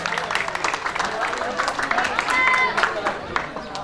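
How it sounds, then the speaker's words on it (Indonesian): At a school event at SMK Maarif NU 1 Bantarkawung, an audience claps amid crowd murmur, the applause uneven and mixed with voices and chatter throughout. "Beri tepuk tangan yang meriah."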